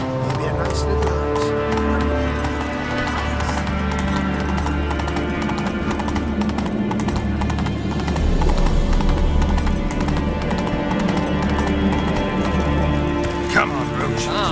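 Roach, the horse in the video game The Witcher 3, gallops with steady hoofbeats under music, with someone talking over it.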